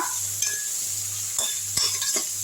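Green chili sizzles in a pan for Maggi noodles while a spoon stirs, with a few sharp scrapes and clinks of utensil on metal over a soft, steady frying hiss.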